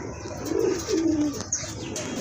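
Pigeons coo in low, soft rolling calls among a pair of racer pigeons at a sale collection, with faint chirps and background bustle, close and moderately loud.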